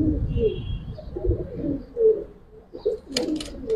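Giribaz game pigeons in a loft, cooing in several soft, throaty bursts that come close together, with a few sharper bird sounds toward the end over a quiet background.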